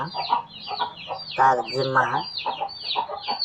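A hen and her chick cluck close by, with a run of short repeated clucks and higher peeping calls that rise and fall steadily and never stop.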